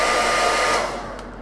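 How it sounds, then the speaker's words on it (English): A hair dryer blows steadily at close range, drying a thin coat of gold paint on a Custodes miniature, a broad airy whoosh that eases slightly softer toward the end. "Hit it with a hairdryer."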